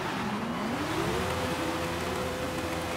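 A car launching under careful throttle control in Forza Horizon 5 drag racing: a steady engine drone whose pitch dips, then climbs and holds as the revs build, close and continuous with tyre hiss underneath.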